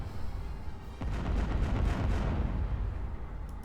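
Turbo laser batteries come under attack in the space strategy game Star Wars: Empire at War, a steady barrage of rumbling blasts and booming artillery-like explosions swelling after a sharp hit, loud and continuous.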